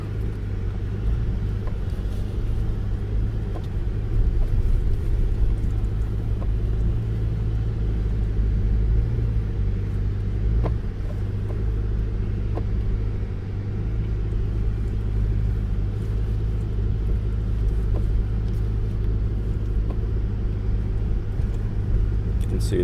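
A 2022 Toyota RAV4 Hybrid drives on Oceano beach sand dunes in second gear, its engine and road rumble heavy and continuous throughout, with a person talking over it.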